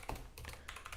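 Code being typed on a computer keyboard: a quick burst of soft, close key taps in uneven clusters, quiet and alone with no talk.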